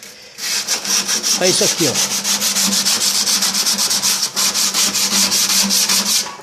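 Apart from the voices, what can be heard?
hand sanding inside a microwave oven with sandpaper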